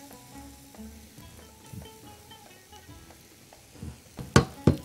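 Meat fries in a pan with pepper for a kabsa, giving a low, steady sizzle under scattered clinks and stirring, followed by a few loud clattering knocks at the end.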